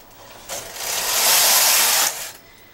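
An electronic knitting machine carriage sweeping across the bed while knitting stockinette, a single loud, rushing whir lasting about a second and a half, rising quickly and then dropping off.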